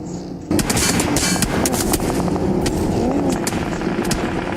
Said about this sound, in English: More shots into Hora as well